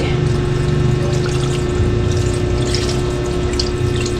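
Water poured into a pot while cooking a sour dish, a loud, close, steady gushing pour with a pump-like hum that runs unbroken for about four seconds, no voices over it.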